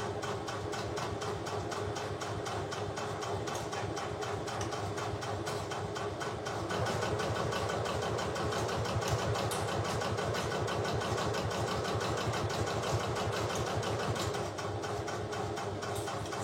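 A sewing machine stitches a seam on the front pocket of a bag, running in a fast, even mechanical rhythm that goes on without a break, close and steady, with no talking.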